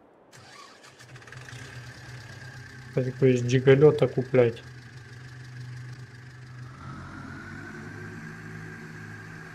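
A diesel tractor engine in Farming Simulator 22 cranks and starts with a brief loud, sputtering rev, then settles into a steady, low, droning idle. Someone talks over the sound.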